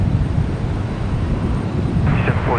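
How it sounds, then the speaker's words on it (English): A Rex Saab 340 turboprop taxiing at Brisbane Airport gives a steady, fairly loud low engine rumble with broadband roar throughout, and faint chirping sounds near the end. "There goes the Rex Saab 340."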